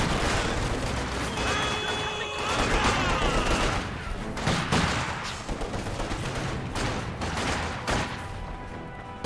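Rifle and machine gun fire in a war video game: dense, continuous volleys of gunshots and bursts with occasional heavier booms, loud and close, with faint voices underneath.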